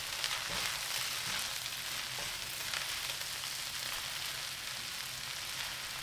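Noodles stir-fried in a pan with bean sprouts and eggs, giving a loud, steady sizzle and hiss throughout with faint stirring scrapes and no talking.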